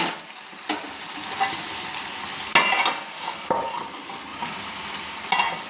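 Gourd and potato curry being stirred in a pan, with a steady sizzle of frying under a few sharp scraping strokes of a spoon against the metal, close and alone.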